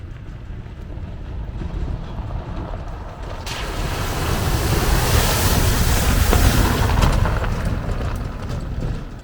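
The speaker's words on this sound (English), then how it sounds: "It can even go through water, pulling a trailer like a beast." Subaru Crosstrek Wilderness pulling a trailer through water, a rising rush and splash of water with wind noise that swells midway and stays loud to the end.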